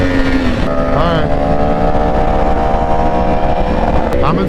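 A Yamaha R1 sport bike engine drones loud and close, its pitch sliding and rising as the throttle opens, with wind roar underneath and voices talking over it.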